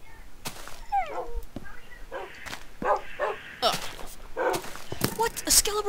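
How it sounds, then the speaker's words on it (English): Dogs in the Minecraft video game, a few short game-sound barks and yelps scattered through the clip, mixed with other game effects and someone talking over them. "I got like three dogs in the... like, pig slash cow pen"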